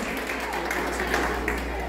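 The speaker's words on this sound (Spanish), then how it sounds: "Fuertes aplausos, que se escuchen bien bonito." An audience at a mariachi show gives a steady round of applause, dense clapping at an even, moderate level throughout, with a low hum underneath.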